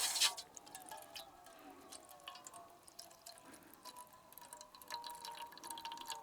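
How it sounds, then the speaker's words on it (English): Water boils in a pan beneath a bamboo steamer at an overnight hammock camp, a faint steady bubbling and ticking with soft irregular pops, close by and without talk. "I hear our water boiling, which means we're also steaming."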